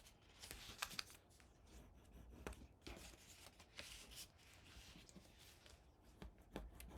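Paper card being folded and burnished along score lines for a handmade folio, a series of faint, close, dry scraping and rubbing strokes with soft crinkles at irregular intervals, no voices.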